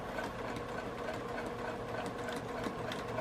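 A sewing machine stitches fabric for an origami tote bag, its motor running steadily and continuously at a low, even hum throughout, fairly faint and close, with no talking over it.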